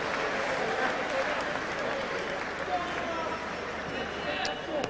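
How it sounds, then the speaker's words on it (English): A boxing arena crowd applauds for Giuseppe Lauri after his bout with Junior Witter, a steady roar of distant clapping and cheering that fills the space, with an announcer's voice over the crowd. "And a round of applause, please, for Giuseppe Lauri."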